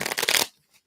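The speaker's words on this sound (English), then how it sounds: "I'll give these a shuffle." Tarot cards are riffled in a quick shuffle: a short, close, papery flutter of cards for about half a second, then silence.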